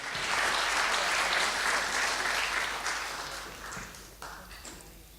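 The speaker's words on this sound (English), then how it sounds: "a warm applause for them" Clapping from the audience at a closing ceremony of an international conference fills the room, strong at first and then thinning and tapering off over a few seconds.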